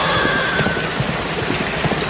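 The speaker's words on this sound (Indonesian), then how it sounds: "Dengan suara gerimis hujan yang semakin deras menambah seramnya pada malam hari itu." Nighttime rain, a drizzle growing heavier, falls as a steady, dense hiss with soft pattering drops throughout, close and continuous, with no voices.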